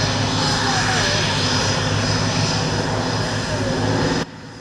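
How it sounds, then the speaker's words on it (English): A P-38 Lightning, a World War II twin-engine fighter with two turbocharged Allison V12 engines, drones loudly and steadily overhead at a Czech airshow before cutting off abruptly near the end. "Leading this formation is a P-38 Lightning, a twin-engine fighter, fighter bomber and long-range escort aircraft"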